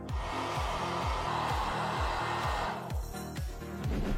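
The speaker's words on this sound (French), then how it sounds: "Alors on va prendre un sèche-cheveux pour accélérer le séchage pour la démonstration." A hair dryer blows steadily to dry freshly treated tile grout, a loud continuous broadband whoosh with a repeating low pulsing hum, running close and alone without a break.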